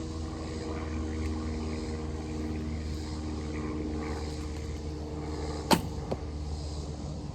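A traditional bow is shot outdoors on a hot, steamy South Carolina day, one sharp twang cutting through the steady low drone of a propeller airplane flying overhead, with a smaller knock just after.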